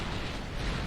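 Torpedo warheads explode in the naval game Ultimate Admiral Dreadnoughts as a deep, rumbling, continuous blast that stays heavy and low for under a second.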